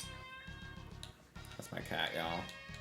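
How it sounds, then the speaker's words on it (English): A pet cat named Claude meows clearly and close by, a drawn-out tonal cry over a steady background of video game music and effects. "That's my cat, y'all."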